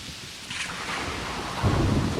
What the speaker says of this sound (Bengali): শুনছ বৃষ্টির আওয়াজ?